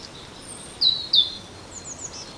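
Birds chirping in woodland along a countryside hiking trail near Martainville, two bright, close high-pitched calls in quick succession, followed by fainter twittering over a quiet background.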